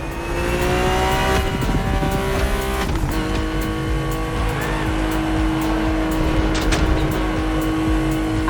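A BMW race car's engine roars steadily in The Crew Motorfest, loud and close, its revs climbing and shifting through gears with a brief tire squeal along the way.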